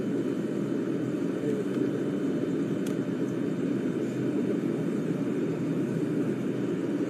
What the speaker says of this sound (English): It's one of these propeller jets, propeller planes.